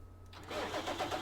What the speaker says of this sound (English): I got the case tractor down here liming the next cotton field.